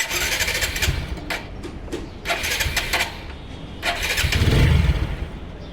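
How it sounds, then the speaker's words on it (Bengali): Used motorcycle engine running close by. It idles with a rough, steady hum and rises in several short revving surges, without any talking. "এটা হচ্ছে আপনি ইঞ্জিনের সাউন্ড একটু দেখেন।"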